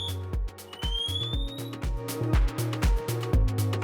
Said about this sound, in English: simply press the yellow center button on the AirBoss Sentinel to activate that pass alarm